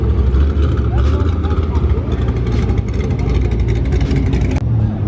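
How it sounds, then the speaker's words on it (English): A Lamborghini Aventador's engine rumbles and revs at close range on a street, a deep, loud drone that carries on under people talking nearby. "An Aventador. That shit sounds sick."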